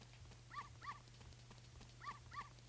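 Two pairs of short, faint yelps from small dogs in the Ocarina of Time video game, spaced apart over a steady low game hum, with no talking.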